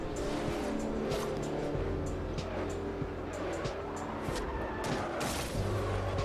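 A 1956 Ford tuned for drifting slides through Forza Horizon 2, its engine roaring steadily with tire squeal close up throughout, loud and continuous.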